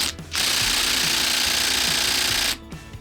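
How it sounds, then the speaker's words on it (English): An impact wrench hammers continuously on the 14mm flywheel nut of a 212cc small engine while a puller holds it, a loud, dense, rapid rattling burst lasting about two seconds, close to the microphone. "So let's take this flywheel off. Takes a special kind of puller."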